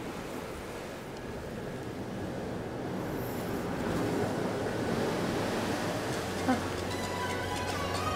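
A steady, low rushing wash of sea water from the Carnival Jubilee cruise ship moving over calm, smooth open sea on a sea day, continuous and even throughout.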